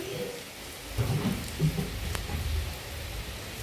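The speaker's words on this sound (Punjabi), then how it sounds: "ਮੀਂਹ ਨਹੀਂ ਹਟ ਰਿਹਾ" Steady rain hisses continuously, with a low rumble underneath and a few soft thuds in between.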